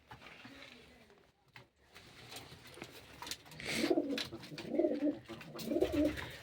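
Pigeons coo near a water bowl in a rhythmic series of soft, throaty calls that grow stronger in the second half, with rustling and faint background sounds.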